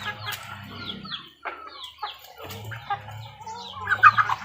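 Chickens on a rural farm cluck and cackle in short bursts close by, a few birds calling over one another against a quiet background.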